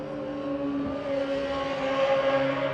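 A racing motorcycle engine drones past during Macau Grand Prix practice, a sustained tonal whine that rises slightly in pitch, loud and close, with no voices.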